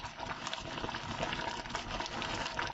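Water boils hard in a pot of white rice on a stove top, a steady, close, dense bubbling and rushing churn that holds constant for the whole stretch.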